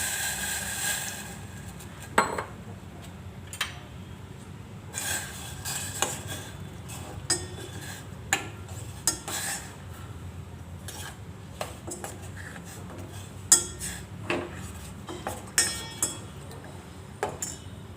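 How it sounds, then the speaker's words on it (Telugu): Metal utensil clinks and scrapes against a pot repeat irregularly, a spoon stirring jaggery melting in water, with a low steady background hum and no talking. "స్టవ్ పైన ఒక గిన్నె పెట్టుకొని అందులో ఒక కప్పు బెల్లం వేసుకొని కొంచెం నీళ్ళు వేసుకొని కరిగించుకోవాలి"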